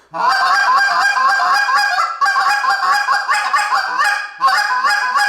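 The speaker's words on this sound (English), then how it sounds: "You can kill a lot of Canada geese just clucking and moaning" A Canada goose call gives a fast, steady stream of clucks and honking moans, loud and close, in a rhythmic run with brief breaks.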